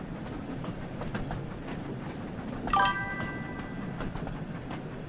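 Train running on rails in the Thomas & Friends video game: a soft rhythmic clatter of wheels over track joints rolls along steadily, with a brief bright metallic squeal midway.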